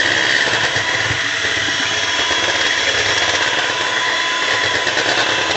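Electric stand mixer kneading bread dough for rolls as flour is added, a loud steady motorized whir and grinding labouring throughout without pause, no voices.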